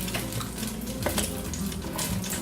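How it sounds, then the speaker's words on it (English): Vegetables and garlic sauté in macadamia nut oil in a pan, giving a close, even sizzle broken by a few short scraping and clinking stirring sounds. "the goal is just to saute the vegetables and the garlic"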